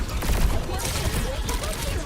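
Dense, continuous gunfire from the Overwatch video game, a rapid broadband rattle of shots that stays loud and steady throughout, with a player's voice talking over it.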